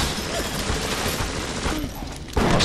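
Dense, continuous rattle of rapid gunfire in the video game BioShock, with scattered impacts, loud and steady, ending in a heavier burst.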